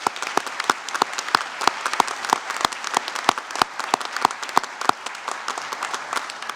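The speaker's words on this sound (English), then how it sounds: "Can you join me in another round of applause for Claire and our wind ensemble?" Commencement audience applauding at a Special Athletics Class of 2025 ceremony: a sustained, fairly loud round of many hands clapping, dense and steady, with sharper individual claps standing out, and no talk over it.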